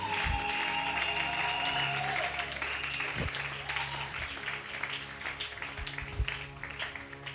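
A church congregation applauding, sustained clapping from a crowd that fades somewhat after a couple of seconds, with a voice and some whistling or cheering tones mixed in.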